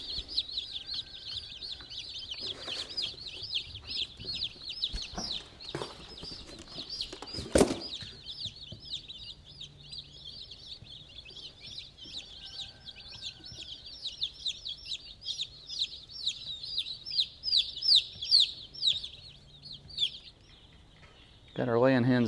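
Many laying hens cluck and chirp in quick, overlapping bursts, with occasional bumps and a sharp knock midway.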